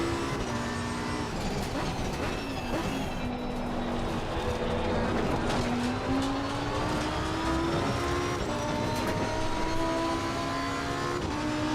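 Race cars at Oulton Park in a racing video game, a constant loud engine drone with rising and falling revs as cars overtake, steady and dense throughout.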